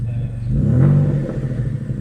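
A Mitsubishi Galant engine with a faulty RPM gauge revs up close by, its low rumble swelling to a peak and easing back to a steady idle, with no talk over it.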